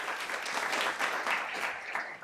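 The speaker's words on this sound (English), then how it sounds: "Let's give her a round of applause." A short burst of audience clapping at a child development lab center ribbon-cutting ceremony, brisk and fairly close, with no talking.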